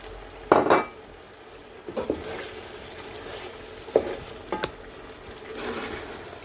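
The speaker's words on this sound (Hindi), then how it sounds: "हाफ काट के रखा हुआ था वो स्क्वीज़ करेंगे और अच्छी तरह मिक्स करेंगे" A spoon mixes potato bhujiya in a cooking pot after lemon juice is squeezed in. A few separate scraping and clanking strokes sound close by over a faint background hiss, with no talking.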